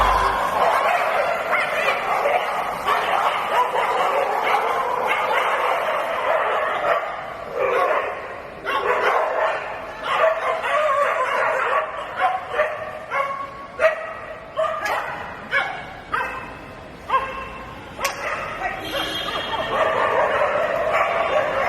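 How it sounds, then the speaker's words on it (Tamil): A pack of street dogs roams Chennai airport, barking, yipping and whimpering in loud, overlapping bursts while a voice speaks over them. "தெருநாய்கள் கும்பலாக சுத்திக் கொண்டும் சண்டை போட்டுக் கொண்டும் ஓடுவது பயணிகளுக்கு அச்சத்தை ஏற்படுத்துகிறது"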